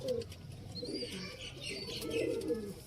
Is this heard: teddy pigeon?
yes